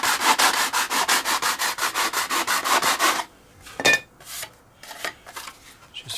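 A sanding block is rubbed along the plastic moulding edge of an FW190 model, giving quick rhythmic rasping strokes that then break into slower, scattered scrapes, close and moderately loud.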